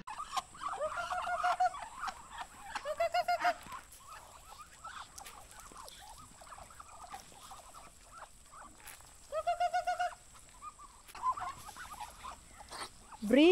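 Breeding ducks in a yard pen give out several bursts of quacking calls, clustered near the start, middle and end, with quieter patter and rustling between them.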